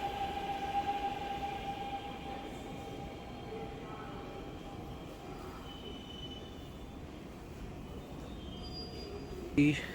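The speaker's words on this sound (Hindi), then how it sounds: "ट्रेन जो है वो आ चुकी है।" A subway train arrives at an underground station in Seoul, with a steady rumble of rails and wheels and a thin high squeal. The rumble holds level throughout, a sharp clunk comes near the end, and a voice is faintly audible.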